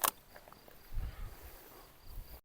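Faint crickets chirp outdoors on a slightly windy evening during a cycling trip, a soft steady high trill over low gusts of wind.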